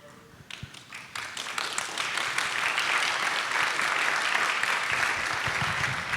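Conference audience applauding at the start of a Q&A session, steady dense clapping that builds after a sparse opening and holds loud and even throughout.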